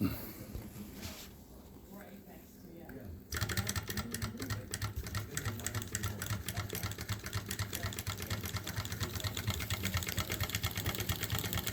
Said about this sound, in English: Cute little engines.